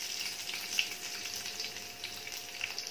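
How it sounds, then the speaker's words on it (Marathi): Crushed garlic cloves and curry leaves fry in hot oil in a pan, a soft steady sizzle with light crackles and a couple of small pops. "त्यात घालते मी लसणीच्या पाकळ्या."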